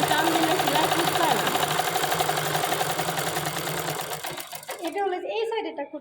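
A sewing machine stitches trousers with a fast, continuous whirring drone close by, then stops near the end, leaving a few faint handling sounds.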